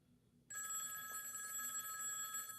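A telephone bell rings out loudly and steadily after a short quiet start, a bright continuous electronic trill that lasts to the end, with no talking over it.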